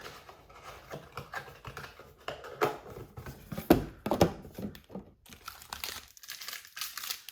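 Absolute Football trading card blaster packs are torn open by hand in a run of sharp crinkling foil rips and crackles, with quieter handling between the bursts.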